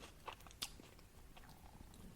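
A person chews a mouthful of store-bought chicken salad close to the mic, with a few soft crunchy bites and wet mastication sounds over a quiet room.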